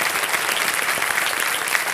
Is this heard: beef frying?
no